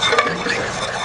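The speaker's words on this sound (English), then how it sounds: "So we're gonna lightly brown the butter." Butter sizzles and lightly browns in a pan for Filipino octopus sinaing while a utensil stirs it, giving a brief close patch of scraping and soft frying crackle.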